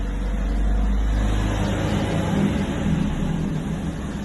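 A Mercedes-AMG A45 starts up with a deep, loud rumble. After the initial rev the engine note drops and settles into a steady idle.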